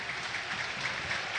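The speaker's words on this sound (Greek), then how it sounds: "Παίρνει και χειροκρότημα" Football stadium crowd applauding a Portuguese player as he is substituted off during an Omonoia league match, a steady, broad wash of clapping and crowd noise with no clear breaks.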